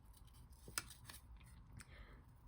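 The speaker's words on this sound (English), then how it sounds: "Just kind of simulate what I'm doing just on a piece of green cardstock" Scissors cut through a piece of green cardstock with a soft, brief snip. The sound is faint and close, with no voices.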